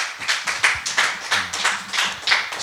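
A church congregation claps to acclaim the Lord, with steady rhythmic hand claps repeating roughly every third of a second, loud and close, with no voices over them.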